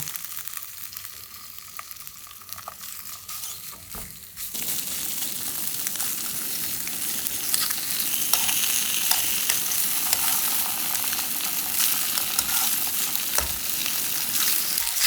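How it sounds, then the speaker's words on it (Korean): Steady frying sizzle of ham in a pan that starts quieter, then jumps louder after a few seconds and keeps up a dense, close crackle with no talking. "이 햄을 구워줄 거예요."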